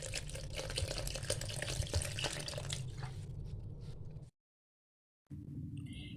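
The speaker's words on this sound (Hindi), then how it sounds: "थोड़ा सा इसमें पानी शामिल करेंगे।" Water streams steadily into a yogurt and gram flour mixture for kadhi, a continuous splashing pour that stops abruptly, goes silent for a moment, then resumes.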